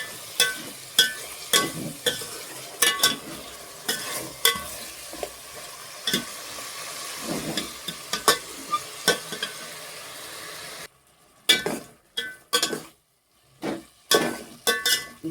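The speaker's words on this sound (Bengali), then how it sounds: "টমেটো কুচিগুলো দিয়ে দেবো, দিয়ে আর একটু কষিয়ে নেবো ভালো করে।" Chopped tomato and green chilies are stir-fried in a pan, with a steady sizzle broken by repeated scraping strokes of a spatula, close and fairly loud, and a few brief quiet gaps near the end.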